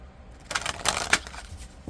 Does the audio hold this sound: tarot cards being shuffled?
yes